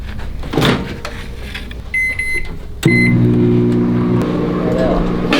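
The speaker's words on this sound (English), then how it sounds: "And we have a microwave, which is always helpful." A kitchen microwave oven gives a few high beeps, a door clunks, then the oven starts a steady, close, loud hum that runs to the end.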